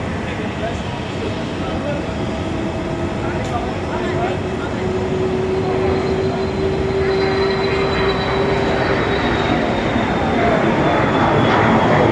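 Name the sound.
airplane at Zurich airport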